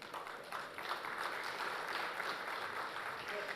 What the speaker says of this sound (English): A big round of applause, please.